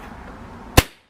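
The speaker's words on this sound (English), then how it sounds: "you push the probe home, drop the bolt down, fire" A single sharp crack from a Webley Venom Viper air rifle firing a pellet, loud and close, with a short decay into silence.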